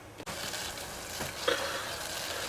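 Water in a pot on the stove at a full boil makes a steady, soft bubbling hiss with a faint clink partway through, heard close and moderately quiet.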